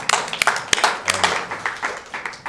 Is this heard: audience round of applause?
yes